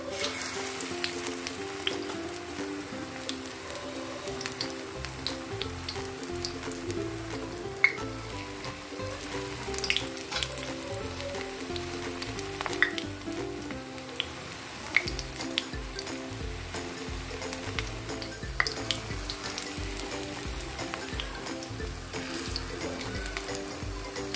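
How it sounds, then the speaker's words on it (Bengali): Bora fritters deep-fry slowly in oil with a steady, bubbling sizzle that holds for a long stretch, broken by occasional light taps and clicks of a utensil. "অনেকক্ষণ ধরে যদি বড়াগুলো ভাজা যায় তাহলে কিন্তু একদম ভেতর সমেত ভাজা হয়"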